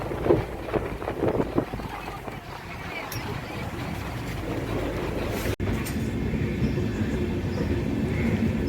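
A train pulling into Kolkata station, a steady loud rumble of carriages on the rails with some clattering at first, then a constant roar, with faint background voices.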